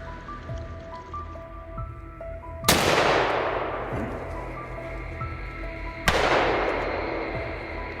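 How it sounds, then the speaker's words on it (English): Two loud close-range gunshots, fired at a wild boar on a forested hillside, each a sharp blast with a long decaying echo, spaced a few seconds apart over faint ambient background. "Travis pulled the trigger at close range. A clean shot."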